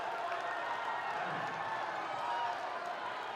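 A crowd in a high school boys basketball gym keeps up a steady roar of cheering, dense and continuous but fairly low in level, with no single voice standing out.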